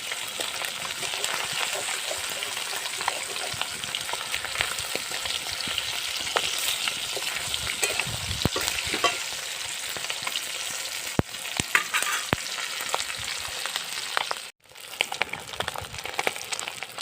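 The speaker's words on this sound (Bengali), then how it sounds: "এবারে আমি একে একে মাছগুলো ছেড়ে দেবো।" Fish pieces fry in hot oil in a home kitchen, a steady loud sizzle running throughout with scattered crackles and pops, briefly cutting out near the end before resuming.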